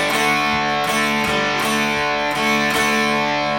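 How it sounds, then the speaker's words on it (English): Distorted electric guitar chugs power chords on the fourth string, a steady series of heavy, ringing strokes close up, without any talking. "So you're just gonna play on power chords on the 4th string."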